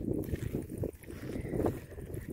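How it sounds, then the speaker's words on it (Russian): Steady gusting hot, strong steppe wind buffets the microphone with a dense low rumble that swells and eases, with no voices. "как всегда, степной ветер. Горячий. Сильный."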